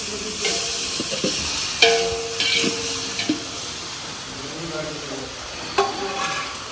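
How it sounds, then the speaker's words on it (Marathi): Tomato roasting in a pan in a kitchen, heard as a continuous close sizzle and fry with occasional stirring scrapes and clinks, no one speaking. "तर टमाट्याला मस्तपैकी भाजून घ्यायचं."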